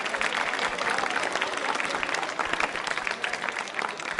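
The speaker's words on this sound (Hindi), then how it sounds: "तालियां जोरों से बजाइए पूर्वी के लिए" A school quiz show audience applauds a contestant for a correct answer, with dense, sustained clapping from a crowd filling the room at steady loudness.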